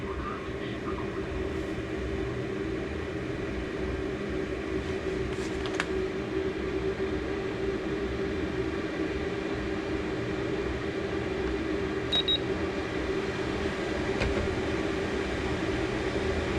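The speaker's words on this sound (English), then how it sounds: "I think the diesel heater just kicked in" A diesel heater running inside a converted school bus (skoolie), heard from indoors as a steady, even droning hum with a low rumble that holds unchanged throughout, with a few faint clicks on top.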